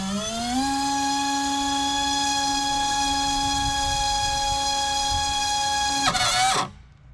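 Drone propeller spinning at half throttle on a test stand, a loud steady tonal whine that climbs briefly at the start, holds constant, then ends with a sharp clattering strike and cuts to quiet.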